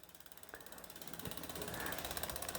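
A tool ratchets in short, quiet clicking strokes at close range while the brake caliper bolts on an S.E. Bikes bicycle are tightened.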